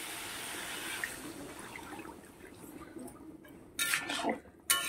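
Water is poured from a vessel into a pan of spiced potatoes being cooked, a soft steady splashing trickle at moderate distance that ends in a couple of louder sloshes.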